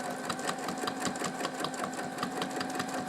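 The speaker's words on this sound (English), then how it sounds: "take a few stitches to anchor it, and then I'm just going to start moving in and out" A sewing machine stitches steadily through a jeans belt loop, its rapid even needle rhythm running continuously at close range with no voices.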